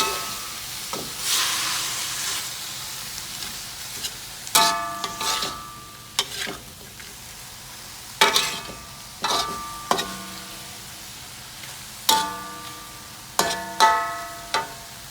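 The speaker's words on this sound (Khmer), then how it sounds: "ចាឥឡូវយើងឆាកូនត្រីវាឲ្យចូលជាតិសិន" Small paddy-field fish stir-fried in a pan with pork, with repeated sharp scraping clacks of a spatula over a steady sizzle, the strokes coming in irregular bursts close by.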